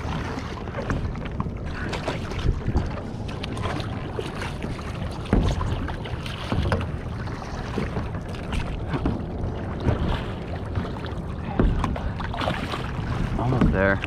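Paddleboard being paddled across open water while fishing for tarpon, with steady splashing and sloshing, wind buffeting the microphone, and a brief voice near the end.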